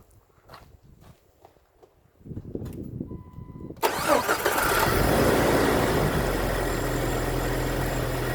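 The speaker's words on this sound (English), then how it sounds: "So I'm going to go ahead and start it up and show you guys the DC charging voltage." A car engine with a serpentine belt setup cranks over and catches after a few quiet footsteps and handling sounds, then settles into a loud, steady idle that runs to the end.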